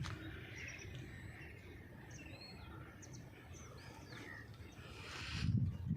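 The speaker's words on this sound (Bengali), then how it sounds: "আপনারা শুনতে পাচ্ছেন প্রত্যেকে কিচিরমিচির আওয়াজ" Birds chirping on a hillside near Kharghar, Mumbai at dusk, with scattered faint high calls over a soft, steady outdoor rumble and a brief louder low gust near the end.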